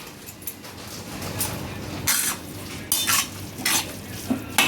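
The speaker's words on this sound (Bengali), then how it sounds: "উপরে এবার আমরা পরিমাণ মতো দুধ দিয়ে আমরা এটা একটু সেদ্ধ করে নেব।" Carrots cooking in ghee and milk for halva, stirred in a pan with a low simmering bubble and several spoon scrapes and clinks against the metal, close by.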